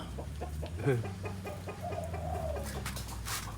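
A rooster crows once at a moderate distance, a rising, drawn-out call amid scattered clucking and bird chirps, fairly faint overall.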